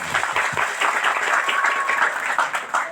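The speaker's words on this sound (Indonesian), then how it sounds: "Sip, tepuk tangan." Group applause at a Pramuka Pandega scout forensics session, dense steady clapping from a crowd that stays loud and close for the whole stretch with no talk over it.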